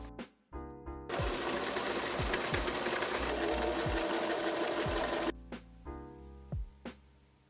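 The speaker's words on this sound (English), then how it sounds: "I sewed two of the skinny rectangles together to create this extra long strap" A sewing machine runs in one steady, loud burst of about four seconds, stitching together two narrow strips of pale blue fabric cut from a thrifted garment to make a long strap, with short mechanical clicks before and after.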